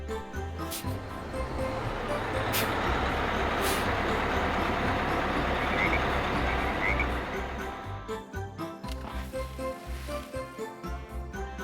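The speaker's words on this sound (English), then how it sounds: "red, Double-decker bus." A red double-decker bus rumbles past at close range, a steady loud engine drone with some rattling and tinkling, easing off toward the end into a choppier idle.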